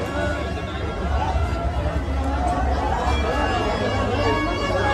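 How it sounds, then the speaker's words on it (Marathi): Devotees crowd the queue for darshan at the Aai Raiba Devi temple yatra, a steady, dense hubbub of many voices and shuffling, close and continuous, with people talking nearby. "दर्शनासाठी गर्दी बघा केवढी आहे, लोक लाईनीत उभं राहिलेले आहे."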